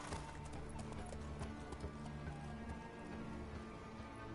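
Horse hooves clip-clopping in The Witcher 3 video game, a steady rhythmic trot of hoofbeats alongside a horse's whinny, with a soft patter like rain and a background music bed, close and continuous.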